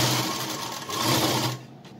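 A sewing machine hums and rattles at a steady pace while stitching the sides of a small cotton frock, close and fairly quiet, and it slows to a stop near the end.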